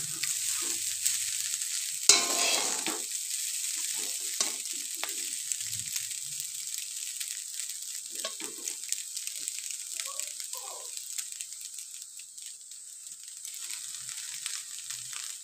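Spatula stirring and tossing egg chowmein noodles with vegetables in a hot pan, giving a steady soft sizzle with scraping and clattering strokes, a louder clank near the start, no talking.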